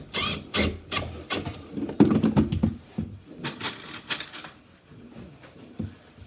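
Bolts are driven into a bathroom floor during a new bathroom install: a close series of irregular clicking, ratcheting and creaking bursts with short pauses between, no speech.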